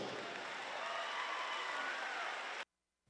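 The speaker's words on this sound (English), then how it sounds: "Let's give one big round of applause and welcome to Heritage High School." Applause at a high school welcoming new faculty, a steady crowd clapping for about two and a half seconds that then cuts off abruptly into silence.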